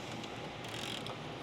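A ratchet works on the 13mm sway bar bracket bolts of a Porsche 992 Carrera, a rapid close clicking of the pawl that runs continuously for a brief stretch, with no voices.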